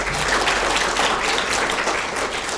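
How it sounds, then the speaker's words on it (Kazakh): Audience applause welcoming a visiting journalist as a guest at a school event: a steady, dense round of clapping that fills the whole stretch at even loudness, with no voices over it. "Рахат Ахмет ағамызды доғыл шапалақпен қарсы алайық"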